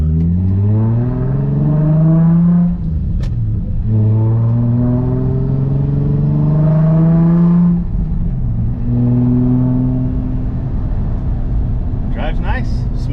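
A car engine, check engine light on, drones steadily and rises in pitch as it accelerates through gears, with someone talking over the cabin hum.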